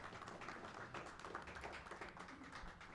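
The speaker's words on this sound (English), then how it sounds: "let's clap for that" Audience applause fills a press conference celebrating the 35th anniversary of Pac-Man, a steady patter of clapping hands lasting the whole moment at moderate, even loudness.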